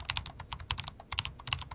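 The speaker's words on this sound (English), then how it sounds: "I type on the keyboard." Quick, light clacks of fingers typing on a computer keyboard, close and quiet, in uneven bursts of keystrokes with short pauses and no voices.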